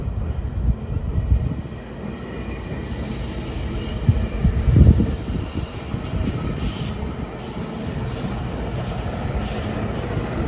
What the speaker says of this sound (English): Here's a good old GO train coming along.